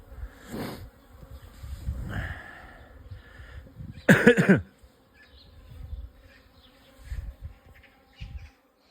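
Honeybees buzz intermittently close to the microphone at an apiary, several passing drones rising and fading over a quiet background.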